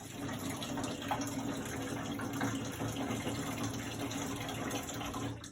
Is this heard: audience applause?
no